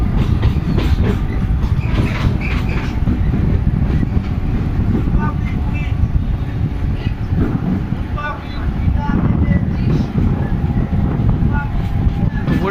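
An express train near Haripal station on the Tarakeswar line rumbles loudly along the rails with steady rattling and clacking, wind buffeting throughout; a voice talks faintly under the noise.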